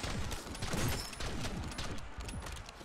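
Rapid rifle fire from sniper weapons in a zombie shooter game, a dense run of sharp, loud shots and impacts with no pauses, layered over game ambience.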